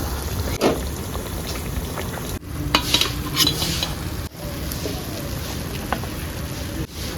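Thekua, a flour-based sweet, fries in a small amount of oil with a constant crackling sizzle, while a utensil scrapes and knocks against the pan at intervals. No one speaks.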